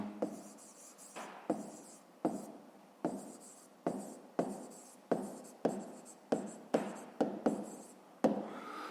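Pen or pencil writing numbers by hand while working a fifth-grade math exercise, a close scratchy series of short strokes and taps in an irregular rhythm, quiet, with no talking.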